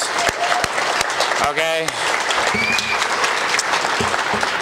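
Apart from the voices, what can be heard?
audience applause for event organizer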